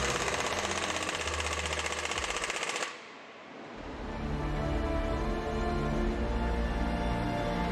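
A power tool drives screws to secure the bolts on a Liebherr LTM 1750 telescopic mobile crane. It gives a loud, dense, rapid mechanical rattle that breaks off briefly near three seconds, then resumes strongly.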